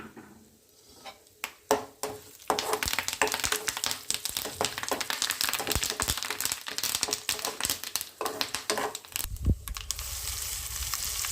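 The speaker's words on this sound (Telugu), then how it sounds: "తాలింపు గింజలు వేసుకుందాము కరి దీంట్లో కొంచెం కరివేపాకు వేసుకుందాం" Tempering seeds and curry leaves hit hot oil for coconut chutney, bursting into a dense crackle of sharp pops and spitting over a quieter sizzle, close and fairly soft, without any speech.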